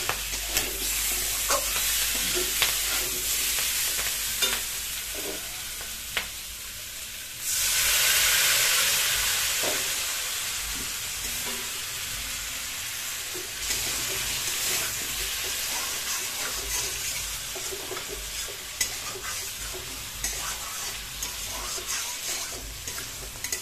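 Spice paste of ground ginger, cumin, green chili, onion and garlic sautéing in a pan for an egg and potato malai curry, a steady close sizzle with frequent stirring scrapes and a louder hissing burst partway through.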